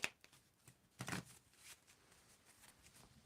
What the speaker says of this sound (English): you need to tell me when to stop shuffling